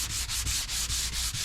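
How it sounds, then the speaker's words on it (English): A small palm sander works sandpaper across the wood of a custom built-in cabinet, giving a close, steady abrasive whir with about seven even, rhythmic strokes and no talking. "little palm sander here. And one more time with the sandpaper."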